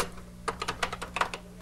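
Keys tapped on a Color Computer keyboard, about ten quick irregular clicks in a short burst over a steady low electrical hum, close and fairly quiet, no voices.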